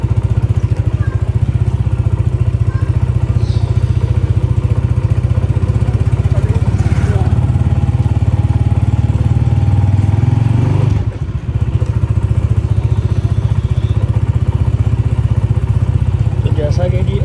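Honda CG 125 motorcycle idling close by, a loud steady low thrumming putter that holds for the whole stretch, with a brief dip and a few faint clanks in the background.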